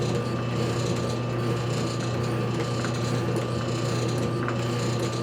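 Delta Ammco metal shaper feeding into a cut on steel, a steady mechanical hum and grinding rasp running continuously at close range.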